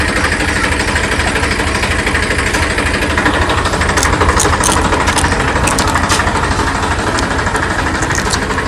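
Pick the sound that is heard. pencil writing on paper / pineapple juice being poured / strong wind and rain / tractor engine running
tractor engine running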